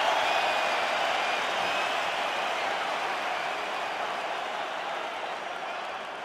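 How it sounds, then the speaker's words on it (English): Steady, dense roar of a capacity arena crowd in the UFC 5 video game before a heavyweight championship fight, a continuous wash of cheering that fades slightly over several seconds. "ready to make a statement in front of this capacity crowd here tonight"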